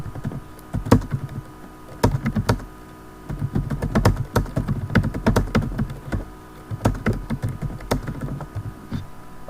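Fingers type on a computer keyboard, a close, quick run of irregular key clicks with a brief pause before the typing picks up again.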